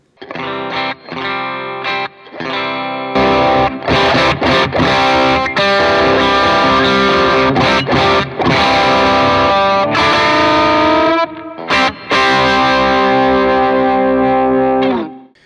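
An electric guitar through a WAT Ranges drive pedal set to low gain, with presence up, the bright switch on, and the voice and tight switches off. It plays loud, sustained chords and riffs continuously, with brief pauses between phrases.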